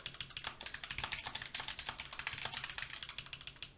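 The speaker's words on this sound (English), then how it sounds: "typing on my keyboard with linear Titan optical switches" Rapid, even typing on a keyboard with linear Titan optical switches, a fairly quiet run of light, crisp keystrokes with no voices.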